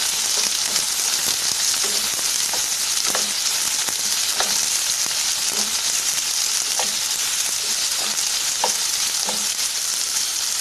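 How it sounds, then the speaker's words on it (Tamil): Onion paste and sliced green chillies fry in a pan for a mushroom masala: a constant close sizzle with regular scraping and clinking from stirring. "எல்லாமே இது நல்லா ஃப்ரை ஆகுதுங்க."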